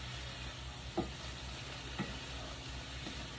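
Onion and celery sauté in a pan for a gluten-free holiday stuffing, giving a soft, even sizzle throughout, with two faint clicks of a utensil.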